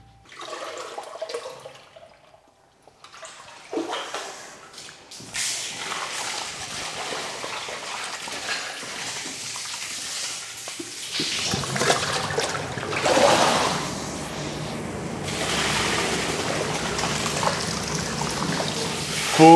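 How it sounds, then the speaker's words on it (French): Whey poured from the curd vat onto cheesecloth to warm it during Reblochon making, a steady watery pour and trickle that starts quietly after a few seconds and grows fuller and louder toward the end, with no talk. "je vais prendre un petit peu de petit lait que je vais répartir sur la toile pour la réchauffer"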